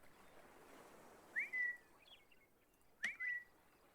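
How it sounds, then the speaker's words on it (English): Two short rising whistles used as a team signal in an ArmA military game, each a quick upward sweep followed by a held note, spaced about a second and a half apart over a low background hiss. "It's that little whistle."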